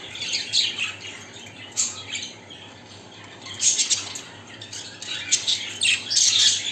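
Pet birds in breeding cages squawk and chirp in repeated shrill bursts, some overlapping, close by and fairly loud over steady room noise.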